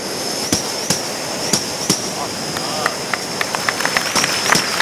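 On a comedy stage show, a performer's voice imitates a train pulling into a station: rhythmic clacking beats that quicken and crowd together over a steady high hissing whistle, loud and close.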